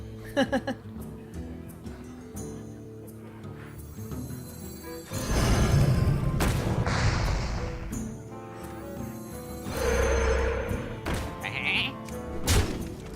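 Hearthstone video game sound effects featuring a polymorphed sheep's bleat among card thuds and magical whooshes, with several distinct bursts and impacts over a quiet background music bed.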